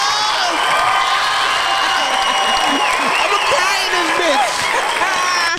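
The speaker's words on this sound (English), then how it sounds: "One more time, clap it up for it." A live podcast audience applauds a couple with continuous clapping and scattered whoops and cheers, loud and close, while voices call out over the crowd.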